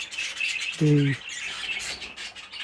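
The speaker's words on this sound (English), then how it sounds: "I think overall he's going to be quite a nice little budgerigar" A budgerigar in an aviary flight cage, recently moved from a breeding cage, chirps and warbles in rapid high chatter throughout. A short spoken word cuts in briefly partway through.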